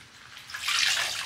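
Hot water mixed with white vinegar runs and splashes while rinsing a sealed wooden surface, a soft steady rush that swells slightly, fairly faint and with no talk.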